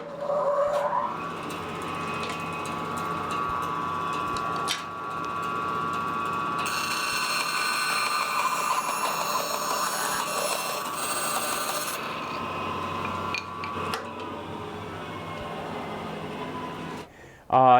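A Rikon bandsaw runs with a steady motor whine and then cuts through a small pine stick, adding a bright, rising cutting tone for several seconds before it drops back to the idle hum.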